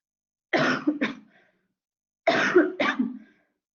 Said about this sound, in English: This coughing is not going anywhere.